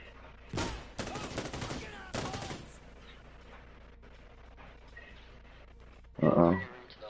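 Gunfire from a video game bursts in several loud volleys near the start, then a sharper burst near the end, with people talking over and between the shots.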